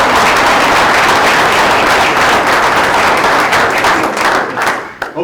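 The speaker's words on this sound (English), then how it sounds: "one more round of applause" Audience applause at a Board of Education meeting honoring student wrestlers, loud continuous clapping from a room full of people that tapers off near the end.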